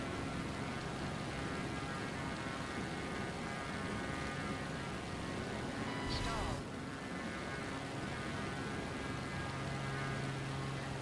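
Steady, loud aircraft engine roar holds throughout a flight simulator video game takeoff, a constant broadband drone with a low hum, briefly swelling around the middle before settling.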